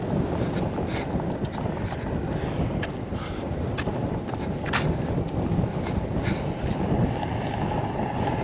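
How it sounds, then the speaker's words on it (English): A strong headwind roars across the microphone while walking outdoors, a dense, continuous buffeting rush with gusty surges and occasional light clicks. "it is a nasty headwind that's pushing us back"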